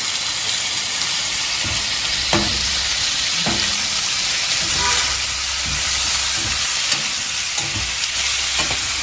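Chicken frying in a pan with a handful of fresh mint, a steady broadband sizzle throughout with occasional scraping and stirring knocks from a spoon against the pan, close and fairly loud.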